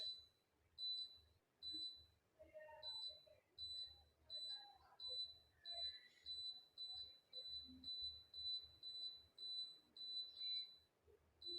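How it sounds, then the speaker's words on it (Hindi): A Daikin air conditioner beeping an error code, a steady series of short high beeps, often in pairs, repeating through the clip, with someone speaking quietly underneath. "यहाँ पे देखें 2 दफ़ा बीप कर रहा है"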